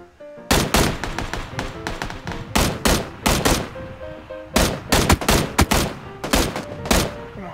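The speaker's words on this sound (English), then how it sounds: "I shot you in the head twice" Rapid bursts of gunfire in PUBG, a battle royale shooter, crack out in irregular clusters of sharp shots, some in quick doubles and runs, loud and close throughout with no talk over them.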